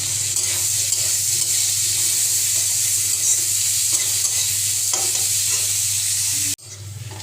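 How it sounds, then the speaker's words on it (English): Sliced onions fry and sizzle in a tablespoon of butter in a pan, a steady close hiss with faint stirring scrapes, cutting off abruptly near the end. "we'll put 1 tablespoon of butter and we'll put these sliced onions"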